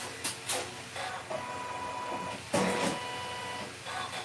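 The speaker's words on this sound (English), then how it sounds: "It's a Janome, Miss Robin." A Janome sewing machine stitching garment fabric in short runs, mechanical whirring bursts separated by brief pauses, close and moderately loud with no talking.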